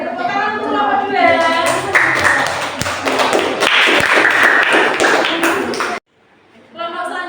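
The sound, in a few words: audience applause for a group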